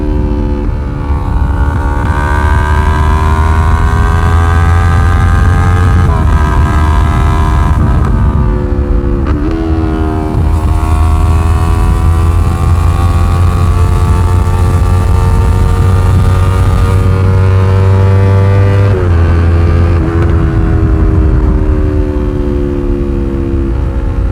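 A highly modified Yamaha R3 motorcycle held at full throttle on a ride, its engine droning loud and steady close to the rider, with rising and falling tones as it shifts gears and revs through the run.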